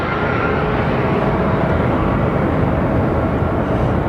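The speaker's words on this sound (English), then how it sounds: "Very popular plane today." A passenger airplane at Phoenix Sky Harbor Airport roars steadily and loudly as a broad, continuous jet rumble with no pauses, heard alone with no talk.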